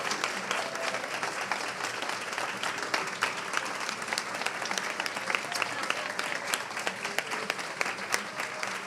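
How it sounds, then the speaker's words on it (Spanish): A big round of applause fills a room at the presentation of a comic book collection, dense and sustained clapping from a large audience lasting several seconds at an even level, with some crowd voices mixed in. "acá, aplauso ahora sí, gigante"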